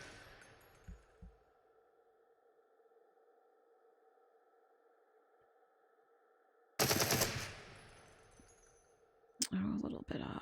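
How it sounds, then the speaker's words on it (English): Automatic gunfire from a weapon at a shooting range in the VR game Into The Radius, with a long steady tonal drone through most of the span, then two loud, dense bursts of rapid fire near the end. "The recoil definitely shifts it as you shoot in auto, so you definitely want to try to keep it steady."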